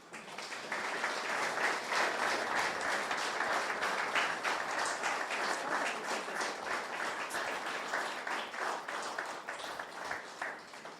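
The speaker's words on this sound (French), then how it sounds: "on va les applaudir très fort" A large church congregation bursts into sustained, dense applause for guests who travelled from Paris, the clapping steady and loud throughout with a slight fade near the end.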